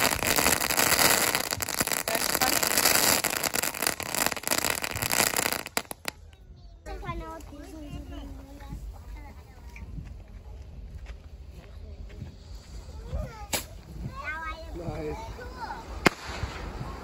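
Firework rocket at a backyard birthday celebration launching with a loud, rushing burst that stops abruptly, followed by quieter crackling while excited voices talk nearby.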